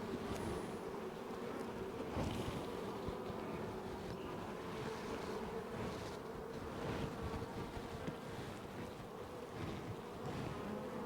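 Honey bees buzz steadily at an open hive while smoke is applied during divider-board work, a dense continuous hum at close range with no voices over it.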